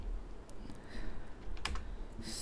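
Quick keystrokes on a computer keyboard tap out a short command in a quiet room, a close, light burst of clicks with a few slightly louder key presses.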